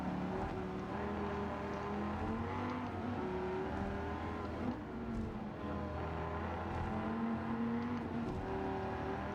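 A Dodge Viper GTS race car in Gran Turismo 7 charges through traffic on Tokyo Expressway, its engine holding a steady loud droning tone that rises and falls slightly as the car shifts and brakes, with no talk.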